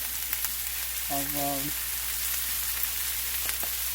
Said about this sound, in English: Got the cabbage going there. I get it going pretty good. Then I'm going to go ahead and get my salmon in.